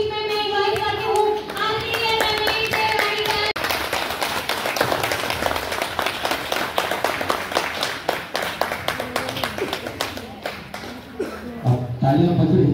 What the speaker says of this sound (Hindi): तालियां बज रही तो बजनी चाहिए।